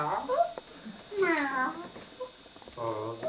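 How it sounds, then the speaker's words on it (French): A cat meowing during a staged Molière comedy, two or three drawn-out mews rising above a murmur of theatre room noise, with voices talking nearby. "Il semble que ce soit un chat qui vienne prendre une souris."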